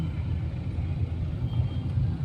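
Dense road traffic in a jam gives a constant low engine rumble, muffled and unbroken, with no single vehicle standing out.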